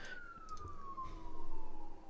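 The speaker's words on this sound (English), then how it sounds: "Siren." A siren wails in a long, steady descending tone across two seconds, moderately loud and fairly close, with faint background rumble beneath it.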